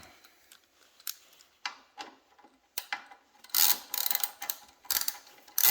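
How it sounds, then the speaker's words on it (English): A ratchet wrench clicks in short bursts while a Performance Machine brake caliper is fitted to a 1987 Harley-Davidson FXR with a wire wheel, with quick close rattling runs and scattered metallic taps, with no talk. "Got this handy ratchety one."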